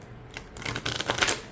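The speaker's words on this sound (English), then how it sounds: "let me just shuffle it one more time." A tarot card deck, The Wisdom of Tula, riffled in one quick shuffle, a brief crisp flutter of cards close by that builds and ends within about a second.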